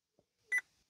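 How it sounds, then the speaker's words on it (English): Vauxhall Corsa D, Opel Corsa D, chiming once as its hidden dashboard settings menu is exited, a short clear electronic beep preceded by a faint click. "simply pull both wands towards you and hold until you hear a beep"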